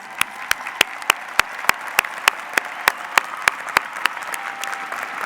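A commencement ceremony audience applauds veterans, a broad continuous clapping crowd with one nearby clapper standing out in a steady, regular beat.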